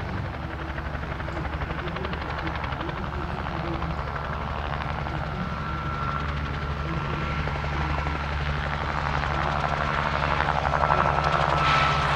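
A Bell 47 G helicopter flies at an airshow in Kehl, its steady rotor thump and engine drone loud and continuous throughout, swelling slightly toward the end.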